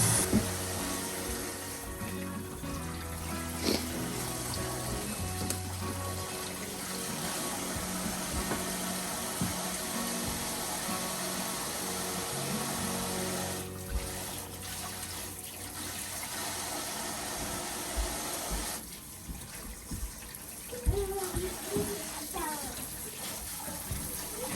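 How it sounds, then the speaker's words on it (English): Potatoes are washed under a running kitchen tap, with steady water flow and splashing close by and some clattering of handling throughout, under occasional talk. "There I'm just washing the potatoes or whatever to get them nice and clean."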